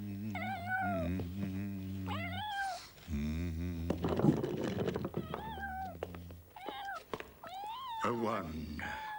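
Cartoon cat meowing repeatedly, with loud, drawn-out yowls and caterwauls that bend in pitch, mixed with cartoon voices and commotion.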